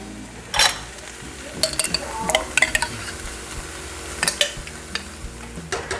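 Sofrito and green seasoning cooking down in a pan on the stove, with a steady soft sizzle under scattered scraping and clinking of a utensil stirring against the pan, close and moderately loud.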